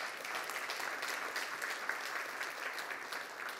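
Audience applause at a Korean entrepreneurship concert, a steady wash of many hands clapping in a hall, moderately distant and even throughout with no voices over it.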